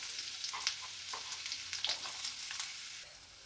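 Onion sizzles steadily in a hot pan while it fries. Soft stirring scrapes break through now and then, close and fairly quiet, with no voices.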